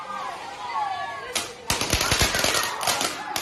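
Chinese fireworks set off in a Pakistani village crackle in a rapid burst of sharp, loud bangs, following a whistling rise, with voices nearby.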